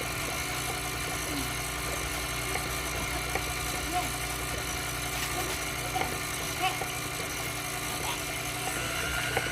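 An electric mixer whipping heavy cream into butter whirs steadily with a constant motorized hum and faint rattling, close by, running without pause throughout.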